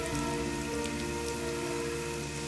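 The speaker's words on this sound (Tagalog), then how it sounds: "Kung kailang nagmamadali tayo, dun pa umulan." Steady rain hisses evenly on a surface without a break, close and fairly loud, with a sustained tonal hum underneath.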